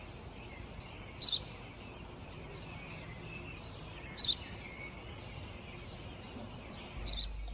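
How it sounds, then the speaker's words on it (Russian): A sparrow chirps in short bright bursts repeating every second or so, with louder double chirps twice, over a steady outdoor background hiss. "Воробей."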